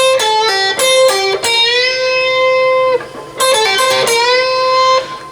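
Electric guitar playing a blues riff, clean picked notes and half-step bends with sustained ringing tones, close and alone.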